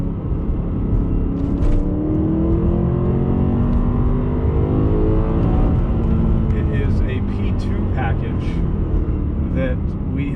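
A BMW M3 engine with Dinan parts revs loudly and continuously, its pitch sweeping up and down with throaty harmonics, while a voice talks faintly underneath.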